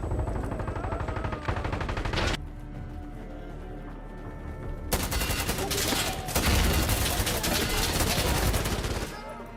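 Rapid bursts of gunfire from the Mouse: P.I. for Hire video game, dense and loud, break off briefly mid-clip and then resume in a sustained barrage over a busy game soundtrack.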